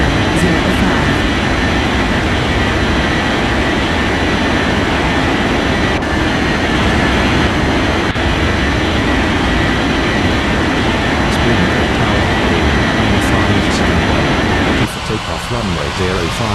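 A jet airliner takes off in an air traffic control video game, its engines a loud, steady, broadband roar that holds for most of the stretch before dropping away near the end, with a voice talking over it.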